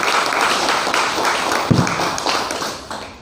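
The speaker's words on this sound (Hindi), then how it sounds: "तो एक बार पेस्ट के लिए ज़बरदस्त ताली बजाएं" Audience at a DXN product presentation in Ranchi, India, clapping together in a brief, dense burst of applause that fades toward the end.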